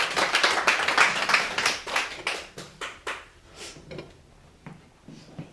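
A church congregation at a Bible-college service claps in a strong burst of close hand claps that quickly thins into scattered, sparser individual claps and fades toward the end.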